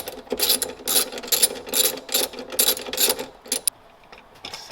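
A hand ratchet clicks rapidly in several quick bursts while turning a 10 mm battery terminal nut on a BMW, close and clear, then stops with a final click and faint handling noise.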